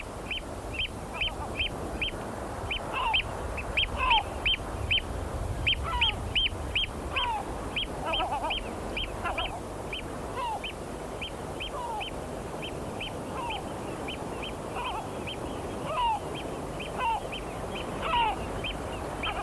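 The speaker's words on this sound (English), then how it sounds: "Oyster catchers are noisy and aggressive" Oystercatchers on their home ground on St Kilda give a steady run of sharp, piping calls that repeat rapidly and overlap, loud and close over a low outdoor rumble.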